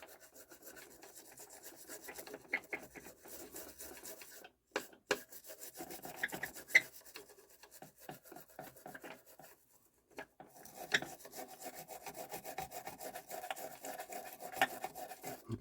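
Steady rasping scrape of a tool working glue off a JVC QL-F4 tape deck circuit board, close and continuous with a few short pauses and sharper clicks, no voices.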